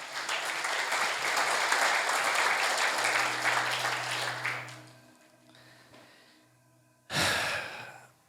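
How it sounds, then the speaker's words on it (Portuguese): A church congregation bursts into loud, dense applause that fades out over about five seconds, followed by quiet, a low hum and a sharp breathy burst near the end. "Então aplaude o Senhor Jesus."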